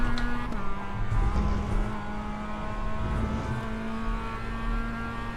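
Mazda MX-5 race car in the iRacing sim on slow laps around Virginia International Raceway, a steady engine drone with a constant pitch and a brief downshift early on, loud and continuous with no talk.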